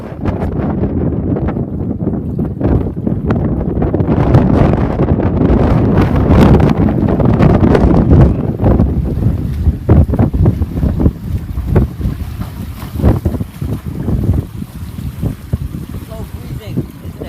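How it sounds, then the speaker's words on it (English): Heavy wind gusting across the sea during a storm at Esentepe, buffeting the microphone loudly and continuously with crashing surf beneath. "because that's storming and it's so windy."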